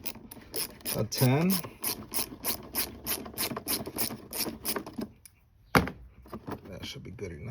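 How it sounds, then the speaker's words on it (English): A ratcheting tool clicks in a fast steady rhythm while loosening a hose clamp on the radiator of a Lexus IS 250, pausing briefly before resuming, with someone speaking a short phrase. "Next thing is I'm loosening the clamp on here."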